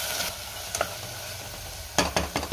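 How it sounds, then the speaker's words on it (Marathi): Spice powders stirred together in a pan, with a few short scraping strokes over a soft background sizzle. "आता हे सगळं व्यवस्थित मिक्स करून घेऊया।"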